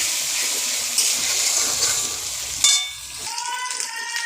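Turmeric and spices fry in oil for chicken biryani, a close steady sizzle with stirring scrapes, then a sudden drop to quieter bubbling and a faint tonal hiss.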